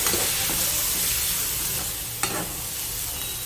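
Boiled black chickpeas being sautéed with onion in a pan over a low flame, a continuous close sizzle with a few soft scraping stirs and one sharper spatula knock.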